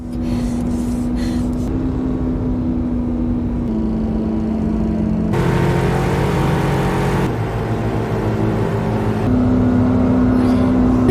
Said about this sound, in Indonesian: ia cari aman dengan menggeber mobil sampai mentok